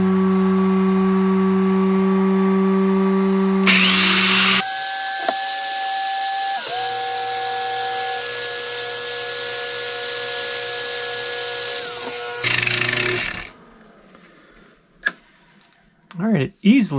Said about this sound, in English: Now it's going to get loud because this grinder is right here